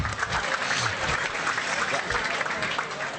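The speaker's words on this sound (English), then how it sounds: "Harry, give him a round of applause" A crowd applauds an award winner at a football club's medal night, a dense, continuous roar of clapping that holds steady at full strength throughout.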